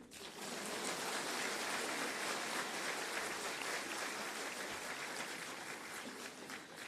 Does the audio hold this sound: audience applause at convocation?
yes